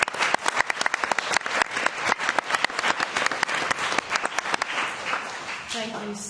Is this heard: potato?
no